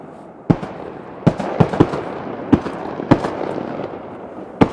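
Shotgun shots ring out during an outdoor quail hunt, a string of sharp, loud bangs spaced irregularly over a few seconds with a short echoing tail after each.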